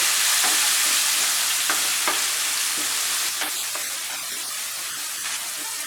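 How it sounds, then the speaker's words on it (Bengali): Chopped onions fry in oil over medium heat, a steady close sizzle with faint crackles and occasional stirring clicks, fading slightly as it goes on with no voices. "পেঁয়াজটাকে একটু সময় নিয়ে মাঝারি আঁচে ভাজবো।"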